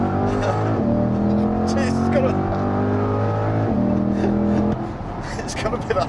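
A car engine with tons of torque idles and pulls at low revs, a steady deep drone running under close conversation throughout before easing off near the end.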